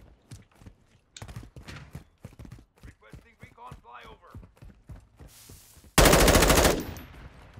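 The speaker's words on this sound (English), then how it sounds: "Don't know where I'm getting shot from though." Gunfire in Call of Duty: Modern Warfare II: a player talks over scattered game noises before a loud, sustained burst of automatic fire erupts near the end.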